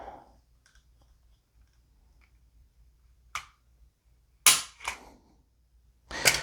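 A Walther PDP Compact pistol trigger dry fired on a trigger scale gives a few sharp, separate snaps and clicks, close and fairly loud, with quiet pauses between them and no talking.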